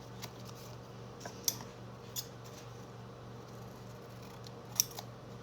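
Scissors snipping paper for a handmade junk journal at a craft table. A few sharp, quiet snips come at irregular intervals over a low, steady room hum.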